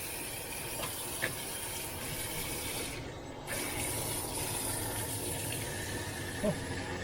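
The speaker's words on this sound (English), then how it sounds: "So when you've got the water coming out here" Hot water runs steadily from a tap in a Forest River Flagstaff EPRO 19BH travel trailer, a continuous hiss heard alone.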